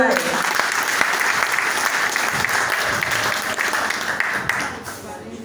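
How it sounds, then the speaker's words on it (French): Loud, sustained audience applause for Neolab at a French-language health talk, a dense wash of many hands clapping that holds steady for about five seconds before tapering off. "Est-ce qu'on peut applaudir pour Neolab?"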